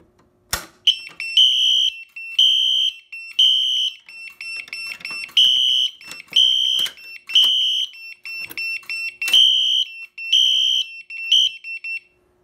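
A loud electronic fire alarm, set off by a pulled BG10 pull station, sounds in a steady repeating pattern of high tones, broken by brief pauses, close and continuous for the whole stretch.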